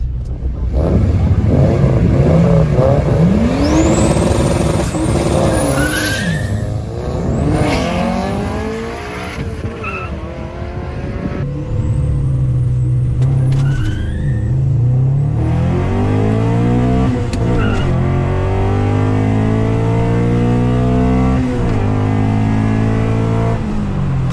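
Loud B20VTEC-powered Honda Civic at a drag race, engine revving high at the launch then screaming up through the gears with rising pitch and sharp shift breaks, a faint tire squeal, continuous and close throughout.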